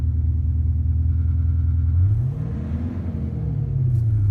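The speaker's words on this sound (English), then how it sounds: "You can actually feel the vibrations on that one, so I'll give that a rev up." A VW Amarok V6 TDI pickup with a Kufatec sound booster rumbles at idle, then revs up once in a rising and falling swell of deep engine sound, loud and close, with no talk.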